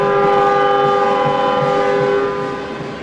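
A loud train-whistle goal horn blasts at a hockey rink during a season opener, one sustained chord-like wail with steady stacked tones that tapers slightly at the end, heard on its own.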